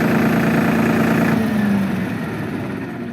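Tractor engine idling loudly up close, a steady droning hum that begins to wind down and fade as the engine is switched off near the end.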